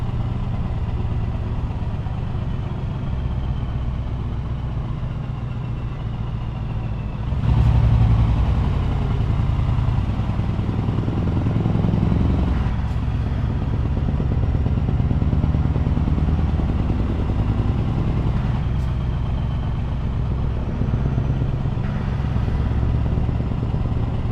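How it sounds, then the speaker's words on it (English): A large V8 engine idles with a deep, steady rumble, swelling louder partway through with a few clanks and revs, close by. "That V8 engine is absolutely purring."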